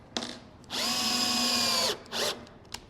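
A cordless power drill drives a screw into a cabinet box, a short blip, then one long steady whine of about a second, then another brief burst, close and loud with no talking.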